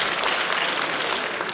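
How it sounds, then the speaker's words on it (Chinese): Audience applause welcoming the host onto the stage at a dance centre's tenth-anniversary award ceremony, a dense, steady burst of many hands clapping at full volume throughout, with no voices over it. "现在我们用热烈的掌声欢迎梁老师出场"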